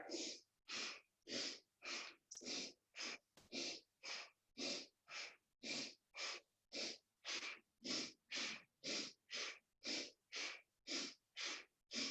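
Slow, steady breathing during a meditation exercise, with about twenty evenly spaced breaths in and out close to the ear, each a soft airy rush separated by short silent pauses, with no talking.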